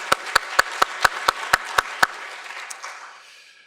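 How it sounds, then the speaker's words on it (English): Nine sharp, evenly spaced claps from a single person close by, thanking student volunteers at a dietetics lecture event, followed by a soft tail of scattered applause that fades out. "So I want to give you a round of applause too."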